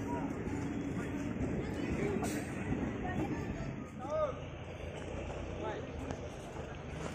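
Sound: train at Dhekiajuli railway station

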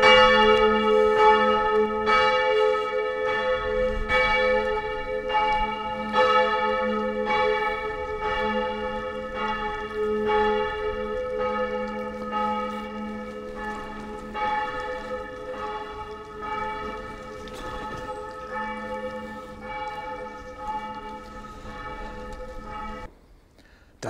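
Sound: church bells ringing at Saturday noon

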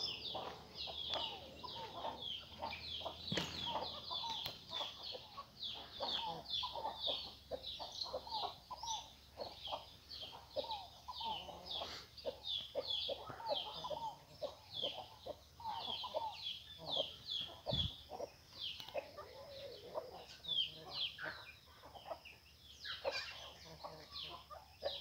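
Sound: chicken clucking

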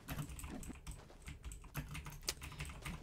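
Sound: loud computer keyboard typing

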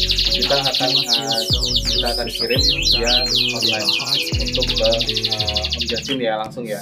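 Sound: caged birds chirping

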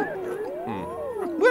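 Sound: cartoon dog howling

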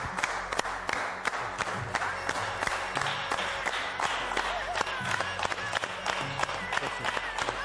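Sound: studio audience standing ovation applause

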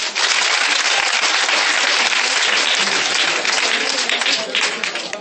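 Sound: church congregation applauding

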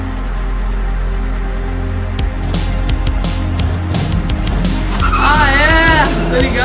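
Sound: car with tires skidding in a video

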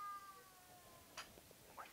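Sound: cat meowing at the door

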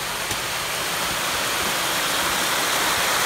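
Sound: creek flowing in Alaska

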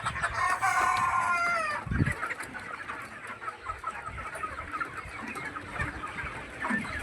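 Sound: young chickens

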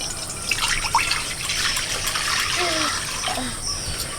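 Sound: water poured into pan of cooking teasel gourd

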